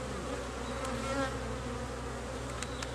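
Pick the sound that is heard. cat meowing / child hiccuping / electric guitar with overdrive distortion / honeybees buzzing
honeybees buzzing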